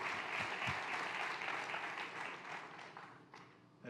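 Audience at a Three Ring Studio event in Springfield Baptist Church gives a round of applause, fairly faint, dense clapping that thins and fades toward the end.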